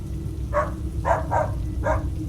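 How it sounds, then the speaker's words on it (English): A dog barks four times in short bursts at a moderate distance, over a steady low rumble of background noise. "she suddenly heard their dog barking outside"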